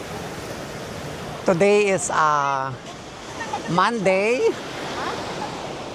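Sea waves washing against the shore at Monterosso in Cinque Terre, a steady broadband surf that continues under someone speaking excitedly in the foreground.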